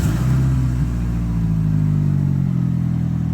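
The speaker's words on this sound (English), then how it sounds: "Let's start your Daytona up." A Dodge Daytona's engine runs loud and close with a steady, rough rumble that rises slightly in pitch as it is revved, continuous throughout with no speech.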